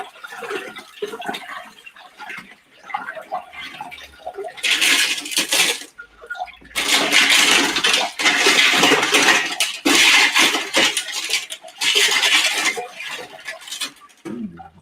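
Stones rinsed in water with borax and stone slurry, bursts of splashing and sloshing with clattering stone knocks, alternating with quieter gaps, loud and close.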